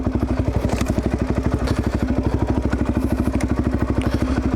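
A motorcycle engine idles steadily nearby, a rapid, even thumping pulse that holds constant throughout with no voices.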